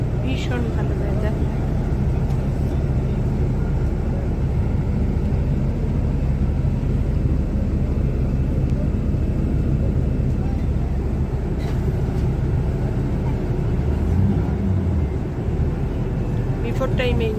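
Steady, loud cabin rumble of an IndiGo airliner just after landing at Guwahati, a continuous low roar with a few faint clicks, while a person talks over it.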